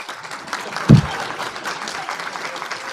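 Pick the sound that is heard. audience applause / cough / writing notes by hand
audience applause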